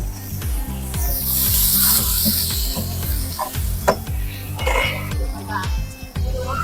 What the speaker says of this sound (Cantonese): 炒香咗啲薑同埋葱啦，我哋就放啲牛肉落去，放辣椒乾